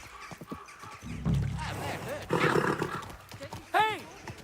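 Horse whinnies and clopping hooves in the medieval video game Kingdom Come: Deliverance II, with a loud rising-and-falling neigh near the end and hoofbeats mixed under a voice calmly speaking.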